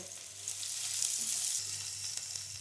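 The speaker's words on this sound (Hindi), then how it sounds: "अब इसको हल्का सा हम सौटे कर लेंगे।" Chopped onion and capsicum sauté in hot vegetable oil with cumin, a steady close sizzle and crackle of frying with a brief stirring scrape, no voices.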